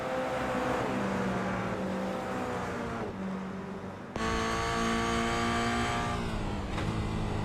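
Race car engine in the iRacing sim at Knockhill, a Toyota GR86 in a GR Cup league race, holding a steady loud drone, then a gear shift and a sharp rise in revs, continuous and close.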